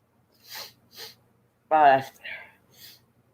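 A few short nasal sniffs from allergies, then a loud harsh snort and smaller snuffles, close to the listener with no talking.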